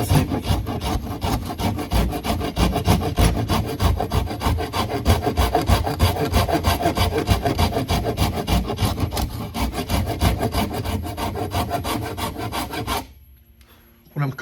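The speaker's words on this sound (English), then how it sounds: "I believe this is called a microplane. It's a lot more aggressive than that Nicholson rasp that I was using." A microplane rasps steadily across a wooden guitar neck during carving, a dense, rhythmic scraping of quick repeated strokes that runs loud and close for about thirteen seconds, then stops abruptly.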